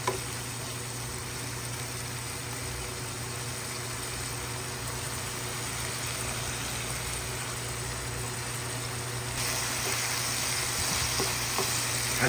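Bitter gourd (ampalaya) sautéing in a pan, a soft, steady sizzle with faint stirring scrapes, continuous and fairly quiet, without speech.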